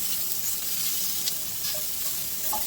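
Onions sautéing in a pan give a continuous, even hiss of frying close up, with a few faint clicks and no voices.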